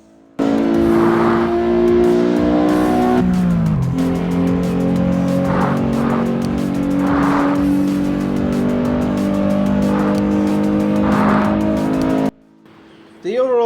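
Racing car engines in the CarX Highway Racing video game rev loudly and continuously, with gear-shift drops in pitch and repeated tire squeals, ending abruptly before a quieter stretch.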